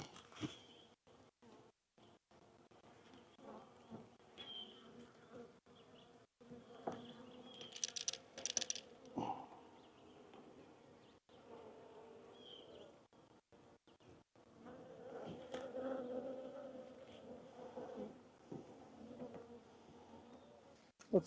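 Honeybees buzz steadily around an open hive in a bee yard after a swarm, a soft continuous hum close by with brief louder bursts as individual bees fly past.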